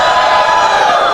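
Studio audience at a comedy dating show cheering and whooping together, a dense, steady roar of voices filling the whole moment at high volume.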